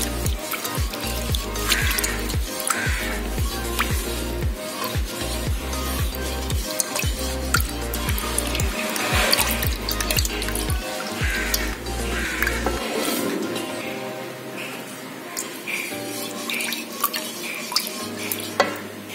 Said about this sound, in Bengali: আমি এবার এটা হালকা জ্বালিয়ে নাড়তে থাকব।